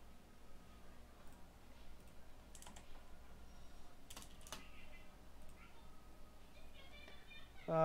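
Computer keyboard typing during a Counter-Strike ranked match, soft irregular key clicks at low level, quiet and close throughout, with a brief louder burst at the very end.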